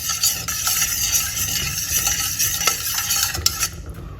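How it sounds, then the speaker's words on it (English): Two teaspoons of honey being stirred into a cup of tea, a spoon clinking and scraping rhythmically against the cup, close and fairly quiet. "2 teaspoons of honey. And just give it a little bit of mix."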